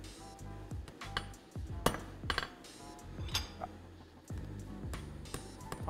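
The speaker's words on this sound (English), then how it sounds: "Hammering." Hot steel tongs hammered on an anvil at a forge, giving sharp metallic clinks in an irregular run of strikes, close and loud over a constant low rumble of workshop noise.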